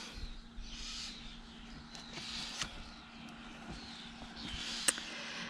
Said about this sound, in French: Alors là, j'ai la blinde d'oiseaux.